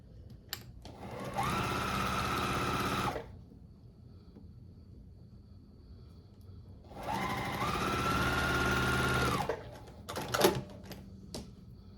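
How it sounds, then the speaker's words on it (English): A sewing machine stitches a quilt block in two bursts of fast, even mechanical whirring, each about two to three seconds long, separated by a quiet pause and followed by a few small clicks. "I sometimes stop talking when I'm sewing so that I don't screw anything up"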